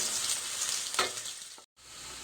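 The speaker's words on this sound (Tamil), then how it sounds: "கோல்டன் கலரில் வர்ற வரைக்கும் நல்லா வறுத்து எடுத்துக்காங்க" Onions frying in hot oil until golden, cooked for Burmese street food atho, giving a close, steady hiss and crackle that briefly cuts out near the end and then resumes.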